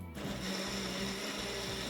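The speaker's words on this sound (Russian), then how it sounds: "И теперь все овощи вместе с водой перекладываем в блендер." Kitchen blender pureeing cooked vegetables with boiled water into a smooth sauce, a steady loud motor whir with churning liquid that runs continuously from just after the start, no speech.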